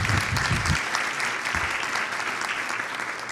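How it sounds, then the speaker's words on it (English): An audience at a conference's closing remarks claps in a full, steady round of applause, with a brief low voice or thump at the start and the clapping continuing evenly throughout. "They deserve a huge round of applause."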